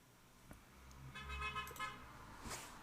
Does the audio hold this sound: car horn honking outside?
yes